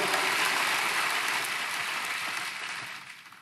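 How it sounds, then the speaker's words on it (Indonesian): Church congregation applauding the praise and worship team, a dense, even roar of clapping that holds steady and then gradually fades toward the end. "Boleh tepuk tangannya di extend buat tim praise and worship kita."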